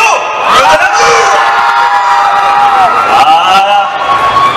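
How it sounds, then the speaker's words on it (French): A convention crowd at a youtubers' panel at Paris Manga 2014 screams, whoops and cheers loudly for a guest, high shrieking voices swelling in dense bursts throughout. "Je demande que les gonzesses fassent un tonnerre de cris d'épileptiques pour Nio"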